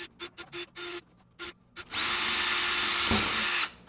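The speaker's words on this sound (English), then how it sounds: "I'm going to start with drilling these out." Power drill drilling out a 2010 Jeep Wrangler JK plastic shift bezel: several short trigger bursts, then a sustained loud whine close up that ends abruptly.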